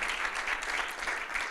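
Steady applause from a church congregation during a Spanish-language service, dense and continuous clapping filling the room at a moderate level without pause.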